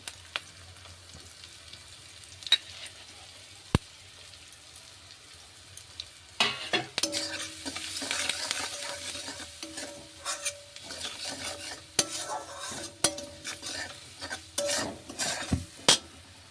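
Spices frying in a pan sizzle quietly at first, then stirring brings busy scraping, rasping and occasional clinks against the pan, in short irregular bursts that continue to the end.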